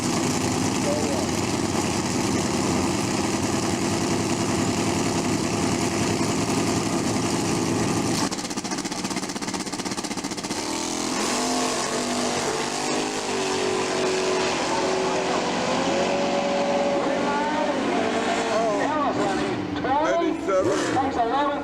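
A 1974 Chevy Nova race car with a brand new engine, running with a steady rumbling drone at a race track while an announcer talks over it, the engine tone shifting and rising near the end.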